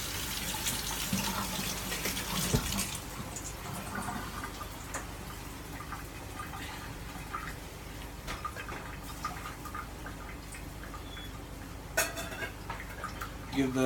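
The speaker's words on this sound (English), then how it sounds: "so we're going to rewash our hands again" Tap water runs steadily into a kitchen sink while hands are rewashed during cooking of plantains and saltfish, with faint clinks and kitchen noise over it.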